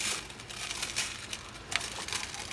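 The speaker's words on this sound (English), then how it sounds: "Bottom of my pot is wet, and that's why we hear the crinkling sounds" Wet-bottomed pot sitting on a stove gives off faint, steady crinkling and crackling, soft popping ticks scattered irregularly across a few seconds, close and quiet with no talking.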